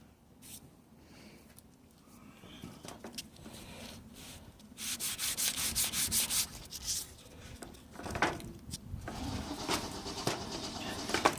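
Sandpaper rubbing over a balsa strop on 220 grit, a steady scratchy back-and-forth that grows louder and busier midway, close up with no talk.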